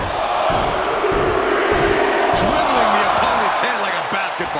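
Arena crowd in the WWE 2K25 wrestling video game, a loud continuous roar with thuds and slams from the ring and commentary voices over it.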